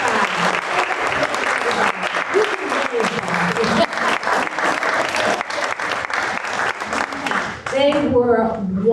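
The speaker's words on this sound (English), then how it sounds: "let's give them another round of applause" A crowd applauds seniors at a community performance, sustained, dense clapping from many people that carries for several seconds before tapering off near the end as voices emerge.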